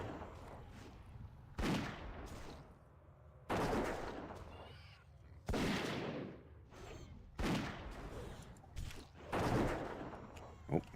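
A hunter fires at a mob in World of Warcraft: The Burning Crusade, with sharp repeated gunshot blasts roughly every two seconds, each followed by a short decaying rumble, under occasional quiet talk.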